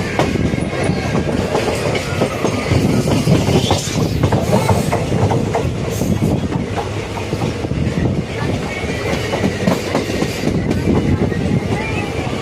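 Train running on rails while entering Vriddhachalam Junction on the Srirangam to Tambaram route, a steady loud rumble with rhythmic clickety-clack of wheels, continuous throughout.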